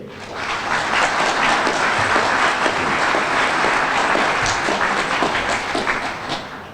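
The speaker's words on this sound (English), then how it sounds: "let's give a warm round of applause to all the award recipients" An audience at a neighborhood grant award event applauds the recipients, a loud, continuous wash of clapping that swells in and tapers off near the end.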